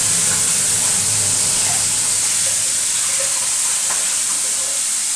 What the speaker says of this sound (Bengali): এই যে এটা হচ্ছে শোল মাছের মাথাটা রয়েছে, মাথাটাও ভাজি।